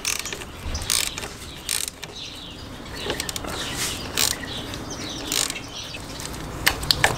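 Bolts being tightened little by little on a Hepco & Becker sidestand fitted to a Suzuki V-Strom 800 motorcycle, giving intermittent ratcheting clicks and mechanical turning noises in short bursts, close by, with no talking.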